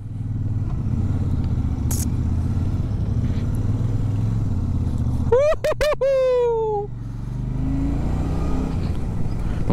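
A motorcycle ridden along a winding mountain road via Pankhabari toward Darjeeling, a steady engine drone throughout, briefly broken by a rising whining sweep of revving mid-ride.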